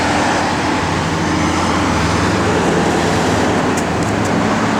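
A 1971 Chevrolet Chevelle SS, noted with a 2800 stall converter, idling steadily close by with a constant low rumble and loud, even engine drone throughout, no one talking.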